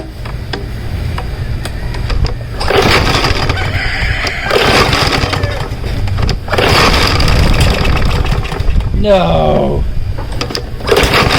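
A Troy Bilt 550ex lawn mower engine with a frozen-up carburetor sputters in rough, uneven bursts that rise and fall, with people talking over it and a brief shout partway through.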